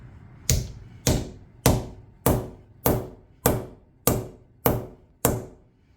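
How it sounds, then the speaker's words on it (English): A poplar wedge driven into the head of a rounding hammer handle: nine evenly spaced, loud, ringing hammer blows about half a second apart, each decaying briefly, with no talking. "I'm going to do my best to drive this wedge and not hit my hand in the process."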